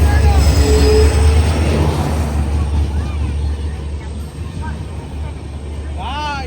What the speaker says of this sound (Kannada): ನಮ್ಮ ಟ್ರೈನ್ ಬಂದಿದೆ ಇವಾಗ 4:50ಕ್ಕೆ.